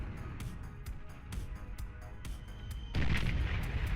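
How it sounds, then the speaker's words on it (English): An atomic bomber unloads bombs one after another on a base in the Beyond All Reason strategy game, a series of booming blasts over a dense rumbling battle bed, swelling into a heavier explosion near the end. "That one atomic bomber just dismantling Cell Space bomb by bomb."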